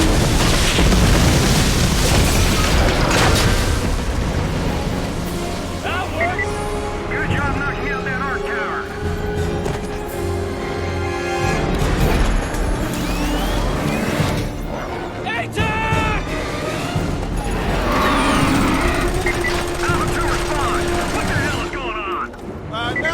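Sustained gunfire in Killzone 2 as a player shoots exposed power cells, dense bursts and booms running throughout with rumbling game effects and a voice talking over the top.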